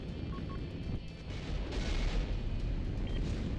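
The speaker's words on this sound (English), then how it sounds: "And here comes the missiles Sandman" Incoming missiles explode in Nebulous: Fleet Command, a space fleet combat game, producing a continuous rumbling barrage of blasts that grows fuller and louder after the first second, with no voices.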